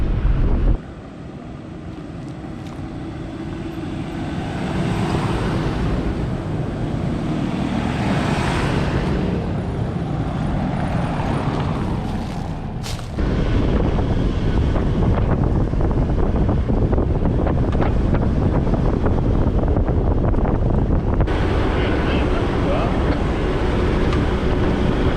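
A 4x4 on tyres aired down to 25 psi cruises a dirt road at about 40 km/h toward Kroombit Tops National Park. A steady engine drone mixes with road rumble and heavy wind buffeting on the microphone, and a voice talks over it.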